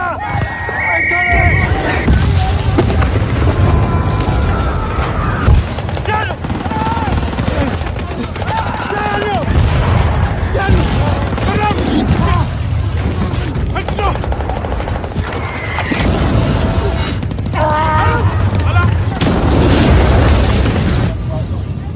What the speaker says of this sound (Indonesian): tewas terkena ledakan bom